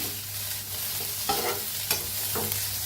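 Garlic cloves and a small piece of another ingredient roast and sizzle in a hot pan, with a steady frying hiss broken by a few scraping stirs of a spoon, close and alone.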